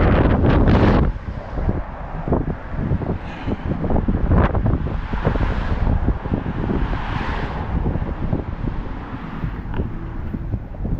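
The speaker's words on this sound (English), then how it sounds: "A very windy, chilly one." Strong, chilly November wind in Maine buffets the microphone in loud, rough gusts, roaring and rustling continuously with no talking.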